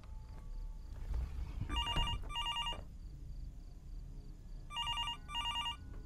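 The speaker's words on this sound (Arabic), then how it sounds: "تلفون يرن الساعة 3" Telephone bell rings in two paired bursts, with a gap between them, in the horror video game Fears to Fathom. The rings are clear over low room rumble and faint movement, with no voices.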